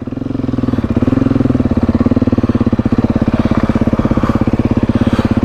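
A Beta 390 RR Ultralite adventure dirt bike's single-cylinder engine runs close and loud, a steady pulsing idle with throttle blips swelling the revs, no voices over it.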